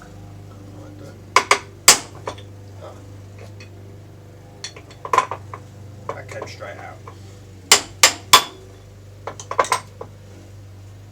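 Sharp metallic hammer taps on an Elu router part come in small clusters, several quick strikes at a time, close by, with a low steady hum underneath and brief speech.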